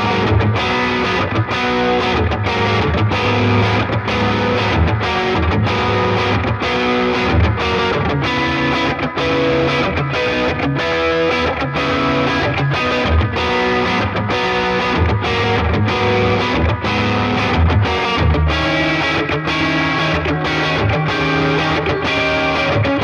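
Electric guitar played through two stacked delays and an amp together, a loud, continuous distorted passage of chords and notes with dense echoing repeats, steady throughout with no talking.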